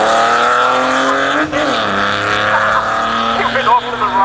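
A sprint car racing at the 2013 Leyburn Sprints, its engine note climbing and falling in loud harmonic sweeps as it accelerates through gear changes, up close, with a commentator's voice running over it.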